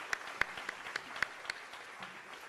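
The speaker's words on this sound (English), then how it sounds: "I want to give them all a big round of applause just for being here" Applause from the audience at a mayoral debate, heard as fairly faint, scattered clapping with a few distinct sharp claps over a low hall background, thinning out toward the end.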